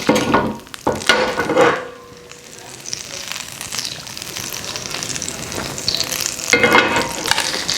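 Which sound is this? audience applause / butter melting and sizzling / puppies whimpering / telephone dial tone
butter melting and sizzling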